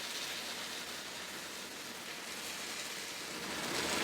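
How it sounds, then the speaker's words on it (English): Steady, dense crackling hiss of chilled syrup sizzling on hot baklava fresh from the oven, even and continuous throughout with no voices. "I don't know if you can hear the sizzle in the camera"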